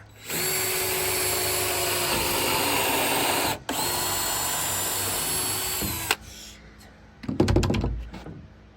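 A power drill drives screws into cabin wood, whining steadily at close range for about six seconds with a short pause, then stopping, followed by a few loose knocks and handling sounds.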